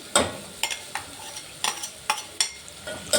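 Oil-roasted peanuts for girmit, a puffed-rice snack, are stirred in a pan with a rhythmic series of sharp scrapes and clicks, about two per second, over a soft sizzle.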